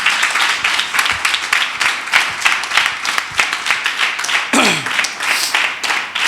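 Church congregation clapping along in a steady rhythmic beat, dense and close, with a lively crowd sound throughout and a voice briefly calling out over the claps.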